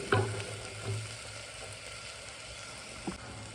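Ginger garlic paste and spices frying in a pan for egg biryani, a steady soft sizzle with a few brief scraping stirs near the start and end, alone without voices.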